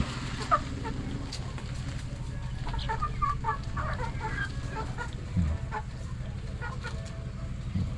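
Chickens cluck faintly in a scattered, irregular pattern over a steady low hum, with no clear talking.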